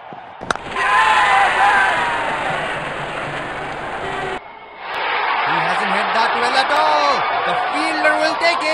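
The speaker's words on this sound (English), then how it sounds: "Crowd is enjoying high quality cricket." A stadium crowd roars at a cricket match in the Real Cricket 20 mobile game, a dense, loud, continuous cheer that drops out briefly midway and then surges back with rising whoops.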